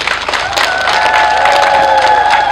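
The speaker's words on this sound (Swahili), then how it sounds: "naomba mumpigie makofi mengi sana." An outdoor community crowd breaks into a dense burst of clapping and cheering, loud and close, with whoops and a few voices mixed into the sustained applause.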